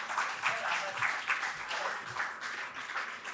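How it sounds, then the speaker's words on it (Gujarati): An audience at a Gujarati literary award ceremony claps steadily and fairly loudly, a dense, even round of applause heard from within the hall. "જોરદાર તાળીઓથી આ ક્ષણને શાશ્વત બનાવીએ."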